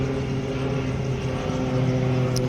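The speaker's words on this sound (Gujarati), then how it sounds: "જો મિત્રો, આ બીજું વિમાન આવી રહ્યું છે એકદમ નજીક." A small propeller airplane flies close by near Ahmedabad, giving a steady droning engine hum with a low tonal buzz that stays fairly even throughout.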